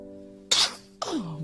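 A baby sneezes twice, each one a short, sharp burst a moment apart, the second trailing off into a small falling squeal.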